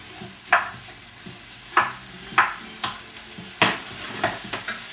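Italian sausage and peppers sizzle steadily in a pan, broken by a series of sharp scraping stirs at irregular intervals, close and fairly loud with no talking.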